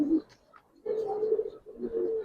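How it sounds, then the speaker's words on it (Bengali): Fancy Giribaz pigeons coo in close, low rolling phrases, a short call followed by two longer throaty coos with brief gaps between them. "কিন্তু এটা একটা গ্যাজেট কবুতর ভাই।"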